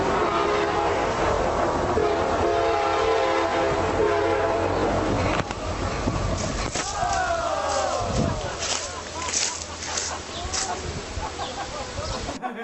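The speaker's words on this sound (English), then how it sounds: "a guy standing on railroad tracks as an enormous train speeds toward him" An enormous train rushes along railroad tracks toward a man standing on them, its loud rumble and blaring horn filling the first half before giving way to cartoonish chirps and clattering effects, with voices talking over it.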